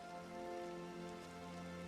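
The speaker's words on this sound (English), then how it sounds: "I wish it wasn't raining" Steady rain pattering down in the Disney Dreamlight Valley game at night, a continuous soft hiss layered over sustained tonal background music, with no voices.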